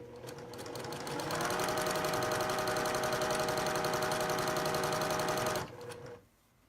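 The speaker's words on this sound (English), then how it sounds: "And I'm going to sew it." A sewing machine stitches along fabric edges, a steady close rattling whir that ramps up, runs evenly for several seconds, then slows and stops, with no talking.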